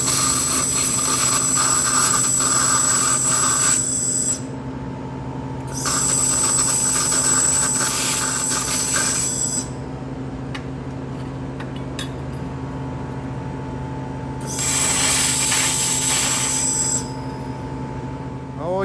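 A ZUMAQ laser welder cuts thin old stainless steel sheet, giving a loud, steady high-pitched hiss in bursts of a few seconds each, over a constant machine hum.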